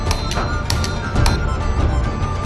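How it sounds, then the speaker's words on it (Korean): Hammers pounding red-hot steel while a sword is forged, a series of sharp metallic strikes in uneven rhythm over a noisy workshop background, close and fairly loud. "선배의 망치질에 박자를 맞춰 두드리는데"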